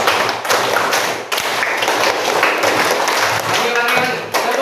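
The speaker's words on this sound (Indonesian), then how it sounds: "Tepuk 5 2 kali" A classroom of pupils claps a rhythmic five-beat pattern twice, sharp tapping claps in tight groups with brief pauses between, close and loud.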